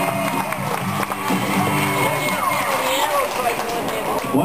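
Loud crowd noise fills the air, cheering and whooping in a large rodeo arena during barrel racing, with a voice on a loudspeaker over it.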